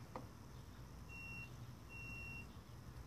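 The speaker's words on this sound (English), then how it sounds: "I'm going to set my multimeter to the buzzer." A multimeter set to its continuity buzzer gives two steady electronic beeps, each about half a second long, as the probes touch an LSX engine's tach wiring with the key on. The beeps sound close against a quiet room hum.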